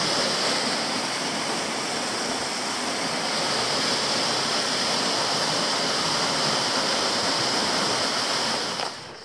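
A waterfall plunging about 7 or 8 metres into a rainforest gorge in Tasmania roars as a loud, steady, broadband rush throughout, close by, with no voices.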